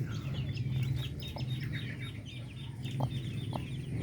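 A native Filipino darag hen clucks low and continuously while her chicks peep and chirp intermittently close by, a soft barnyard scene with no talk.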